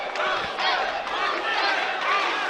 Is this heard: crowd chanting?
yes